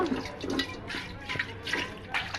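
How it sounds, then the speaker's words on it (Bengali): Water from a public municipal tap pours and splashes continuously nearby, surging in uneven gushes. "এটা হচ্ছে টাইম কলের জল"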